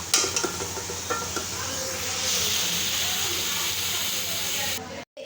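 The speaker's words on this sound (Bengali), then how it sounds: "এটা আমি ভালো করে এটাকে নেড়ে নিচ্ছি তো এটা কষতে থাকবে" Spice paste sizzles and hisses steadily in a hot pan while being stirred, close and continuous, with a few scraping clinks early on and someone speaking over it.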